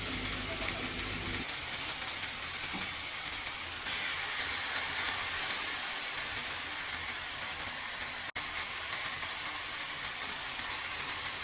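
Milkfish (bangus) sizzling in a frying pan with browned pork and black pepper, a steady dense hiss of frying that continues throughout with a brief louder burst at the start, no talking.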